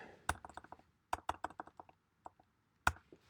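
Keys clatter on a computer keyboard in short, irregular bursts of close, crisp taps separated by quiet pauses, ending with a sharper final press.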